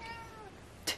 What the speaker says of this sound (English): My cat just woke up.